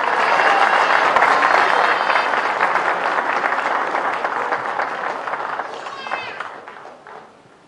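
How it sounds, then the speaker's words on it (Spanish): Loud applause rises from a crowd of workers at a Bolivian presidential event, with voices mixed in. It stays strong, then gradually fades and drops off near the end. "El aplauso fuerte, por favor."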